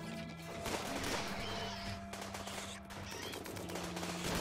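Gunfire against insects in the colony game Rimworld, rapid repeated shots crackling over a steady background hum and game music, loud and continuous through the short stretch.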